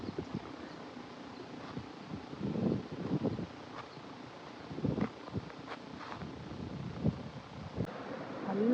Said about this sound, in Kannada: ಗಾರ್ಡನ್ ಥರ, ಗಾಳಿನೂ ಚೆನ್ನಾಗಿ ಬೀಸ್ತಾ ಇದೆ